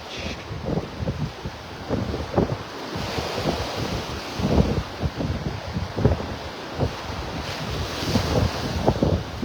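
Ocean waves wash onto the beach at Wiggins Pass at high tide, a steady rolling surf with repeated breaking surges and wind buffeting the microphone throughout.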